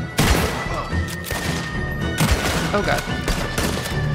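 Guns from Red Dead Redemption 2 fire in loud, close bursts of shots and crashes in a frantic shootout, with a man exclaiming briefly over the gunfire.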